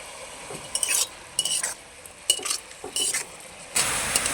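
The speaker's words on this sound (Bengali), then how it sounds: "গাজর আর কপি নাড়াচাড়া করে নিয়ে এখন একটু ঢাকা চাপা দিয়ে রান্না করে নেব" A spoon stirs carrots and cauliflower with ginger paste, turmeric and salt in a cooking pan, making close, quiet scraping strokes in short irregular bursts, with a longer sizzling scrape at the end.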